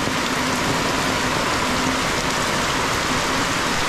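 Heavy rain pours down in a dense, unbroken roar that stays loud and constant throughout.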